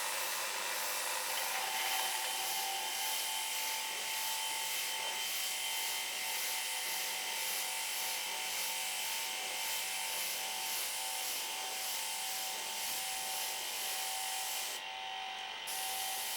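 An airbrush blows plain air, with no paint, to dry paint on paper: a steady, soft, close hiss that holds evenly for the whole stretch and dips only briefly near the end.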